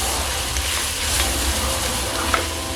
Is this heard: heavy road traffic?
no